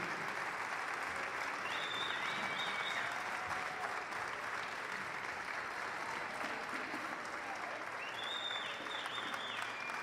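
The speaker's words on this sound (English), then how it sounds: "Let's have to give them another big ovation for all the teachers" A high school gym crowd before a volleyball game gives the teachers a long, steady ovation of dense applause, with a couple of brief cheers rising above the clapping.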